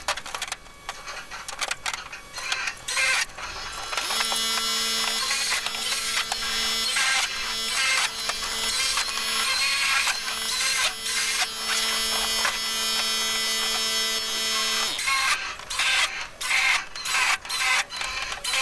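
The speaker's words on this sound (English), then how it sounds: "I'm not going to make you watch me drill all these holes, just most of them." A power drill whirs continuously for about ten seconds, bracketed by scattered clicks and handling knocks before and after.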